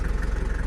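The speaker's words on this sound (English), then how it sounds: "The car is only idling for, I'd say, less than 5 minutes, maybe 5 minutes now." A Mercedes W201 190D diesel idles with its cooling system freshly flushed and refilled with water, giving a steady, close, rhythmic low chug of even pulses over a brief stretch.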